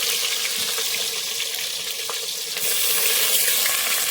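Onion frying in a pan for vaseti bhaji, a steady loud sizzle that swells slightly louder partway through, close and unbroken with no talk.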